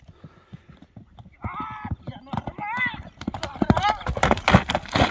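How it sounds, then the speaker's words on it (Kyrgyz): Horse's hooves clip-clopping on the ground as it is made to run, a quick irregular rhythm close by, with people talking and calling over it. "Атты чуркаталы."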